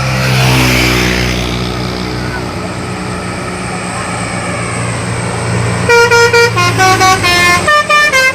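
A tour bus (Bintang Laut Holiday) climbing the Sambeng hill in Gunungkidul blares a loud, droning horn over its engine, then near the end bursts into a rapid, melodic telolet horn pattern of repeated toots.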